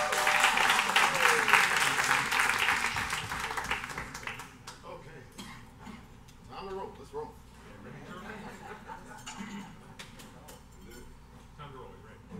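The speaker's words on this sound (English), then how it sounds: "So kudos to Jason, give him a round of applause." Audience applause at a live gathering: a loud, dense round of clapping for the first four seconds, then fading into scattered claps and murmuring voices.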